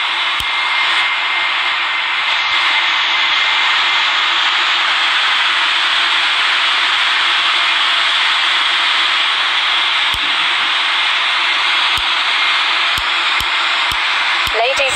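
Boeing 777-300ER engines start up in a flight simulator game, giving a loud, steady, broad roar that holds for the whole stretch, with a few sharp clicks near the end.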